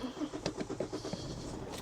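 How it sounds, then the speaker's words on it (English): A girlfriend's car cranks over with a rapid, rhythmic starter churn, a series of quick chugs from a faint, close engine that catch briefly before settling. "Let's start the car and see if the car actually works now"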